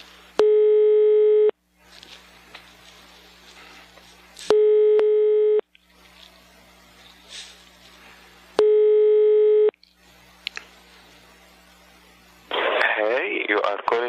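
Telephone tones while a call to Sweden connects: three loud, steady tone bursts at regular intervals, with quiet line hiss and faint voices between them, ending in a burst of garbled noise.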